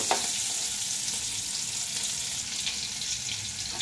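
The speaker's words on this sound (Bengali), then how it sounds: "কুমড়োটা ভেজে নিই" Pumpkin pieces frying in hot oil in a pan over raised heat make an even, continuous sizzle with faint stirring, close and unbroken, with no speech.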